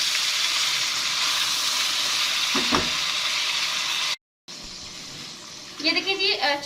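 Half a kilo of chicken sizzles steadily in a pot with onions and spices for a Hyderabadi biryani, a dense hiss holding close and loud, cut by a short gap, then resuming with brief stirring scrapes near the end.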